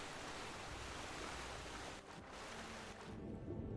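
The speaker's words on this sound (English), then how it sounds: "Ah, the river, the current, it's strong." Strong river current in Skyrim rushes as continuous broadband water noise, loud and steady throughout with a brief dip in the middle.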